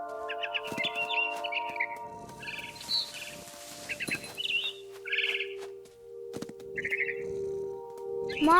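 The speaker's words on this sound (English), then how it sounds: "Then I heard chirping outside my window." Short bursts of barn swallow chirps repeat every second or so over a quiet backdrop with sustained musical tones, the tweets clear and fairly close, from the game What Remains of Edith Finch.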